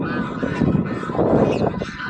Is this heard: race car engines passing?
no